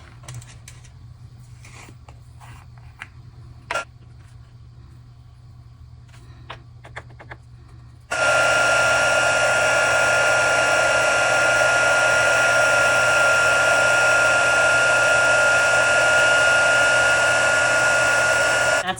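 A heat tool switches on abruptly and blows a loud, steady whir to melt white embossing powder on a handmade die-cut card, after several seconds of quiet with faint clicks.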